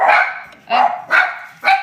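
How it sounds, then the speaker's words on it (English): Dogs barking indoors near a kitchen, four loud close barks spaced about half a second apart with brief quiet between them. "they love to bark every time they see somebody"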